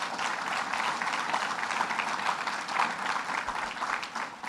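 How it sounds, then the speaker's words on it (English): Steady applause from an audience at a Rochester sustainable development event, a dense even patter of many hands clapping that holds without pause from start to finish. "Let's give her a round of applause."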